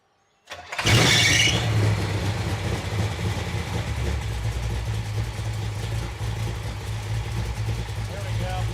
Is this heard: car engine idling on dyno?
yes